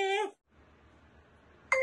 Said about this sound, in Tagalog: Ngayon ko lang nakarinig yung tunog ng panalo.